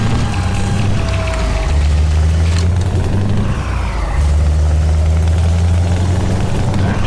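A Scania V8 Euro 6 truck engine with a 730 V8 in Euro Truck Simulator 2, heard from outside the cab: a loud, steady low rumble that rises and dips with revving, continuous throughout.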